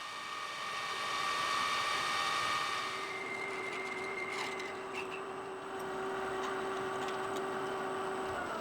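A metal lathe turns and parts off a piece of stock in a workshop, giving a moderate steady hum with a sustained tonal whine and light ticking contact noises throughout.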